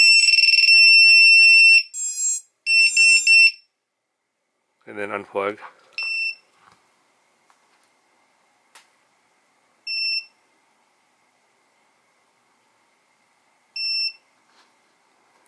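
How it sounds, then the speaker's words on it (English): A VIFLY Finder lost-drone alarm gives a loud, sustained shrill beeping at first, then a few quick bursts. Someone speaks briefly before single fainter chirps repeat every few seconds into the quiet. "It's still beeping"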